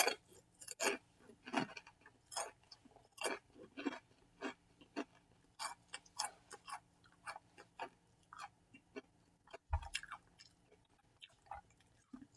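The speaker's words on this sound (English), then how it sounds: "I'm gonna eat some Ruffles, Double Crunch chips while I'm talking about this" Ruffles Double Crunch Hot Wings potato chips being chewed close up, a steady run of sharp crunches and bites with short pauses between, loud and alone without talk.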